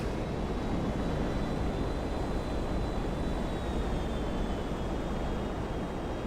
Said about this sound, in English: This military jet I stole from Fort Zancudo, and it is a lot harder to do than you'd think.